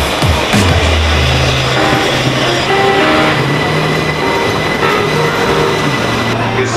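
A train in London runs loud and close, a continuous rumble of wheels on rail with clacking and squealing tones throughout, and no voices over it.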